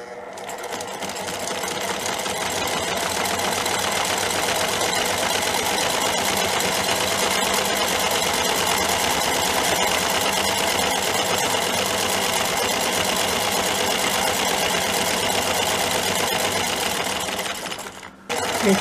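A sewing machine runs steadily at speed for about eighteen seconds, stitching the coloncito (small E-shaped) decorative stitch, with a dense continuous mechanical whir that cuts off abruptly at the end.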